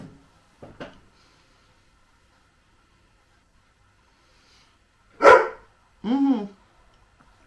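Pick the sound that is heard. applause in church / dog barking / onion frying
dog barking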